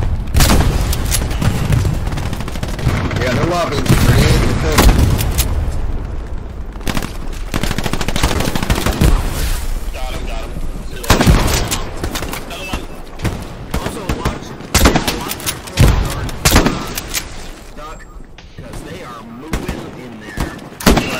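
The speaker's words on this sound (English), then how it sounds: "they're lobbing grenades at the" Grenades burst among dense gunfire in the World War II shooter Hell Let Loose: loud booms and rattling bursts come close and far in a chaotic, continuous battle, with voices under the din.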